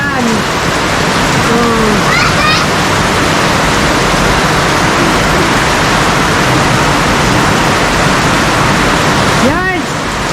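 Heavy rain pours steadily in a dense, loud hiss, with a few brief voices and bird-like chirps cutting through near the start and end.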